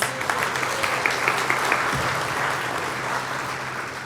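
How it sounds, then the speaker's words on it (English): A congregation applauds at a Seattle Unity church service, a steady wash of many hands clapping that holds for about four seconds at moderate level, with a low sustained tone of music underneath and faint voices mixed in. "Give yourself a round of applause."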